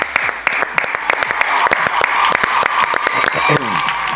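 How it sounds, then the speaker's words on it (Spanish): A studio audience on a Spanish-language talk show breaks into loud applause and cheering for an arriving guest, sharp individual claps standing out, with excited voices and shouts mixed in. "Un fuerte aplauso para el gran Diego Rebaleati, por favor."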